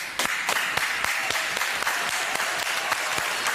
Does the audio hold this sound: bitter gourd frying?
no